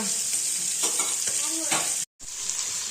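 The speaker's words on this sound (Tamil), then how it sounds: "ஒரு சைடு வெந்துட்டு திருப்பி போட்டாச்சு. நம்மளோட ஃபிஷ் ஃப்ரையும் ரெடி." Fish frying in a pan, a bright, continuous sizzle with a few stirring scrapes and faint voices beneath, cut by a brief moment of silence near the end.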